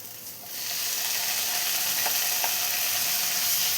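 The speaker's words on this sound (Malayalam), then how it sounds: "മുരിങ്ങയിലയും ഇതുപോലെ ഒന്ന് നന്നായി ഒന്ന് മിക്സ് ചെയ്തെടുക്കാം" Drumstick leaves being stirred into curry masala in a hot pan give a steady, close sizzling hiss with faint scraping clicks throughout, no voices.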